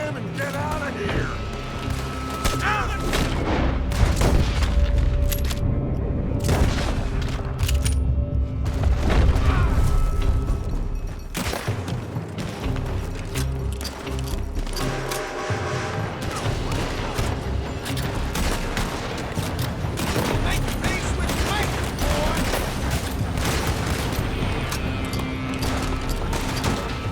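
Gunfire erupts in Red Dead Redemption 2, repeated loud shots and booms scattered through a dense, noisy battle soundscape with mechanical clatter and some voices.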